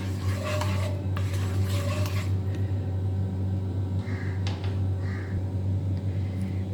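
A spice paste for a potato and peas curry is stirred in a pan, with a spoon scraping and clinking against the metal in short bursts over a steady low hum, close and moderately loud.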